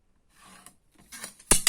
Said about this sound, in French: Donc là, je découpe un carré de 9 sur 9.